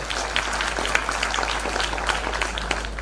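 A gathered crowd at a Marathi commemorative programme for Karmaveer Bhaurao Patil claps in a steady, moderately loud wash of applause that keeps going without a break and has no talk over it.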